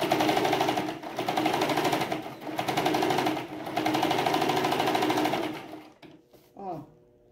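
Sewing machine stitching fabric and batting for hot pot holders, running fast and loud for about six seconds with brief pauses, then stopping; a voice speaks over the motor.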